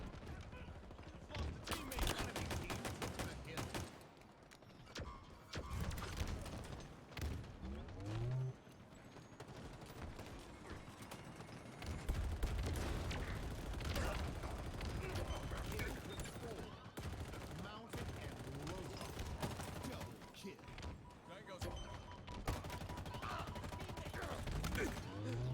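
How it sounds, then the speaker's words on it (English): Turret gunfire in the Halo Infinite video game, rapid bursts of shots in clusters with rumbling impacts and vehicle noise, loud and close, while a voice talks at times. "I might want to do something about that turret"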